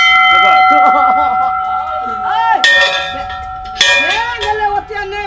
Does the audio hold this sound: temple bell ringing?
yes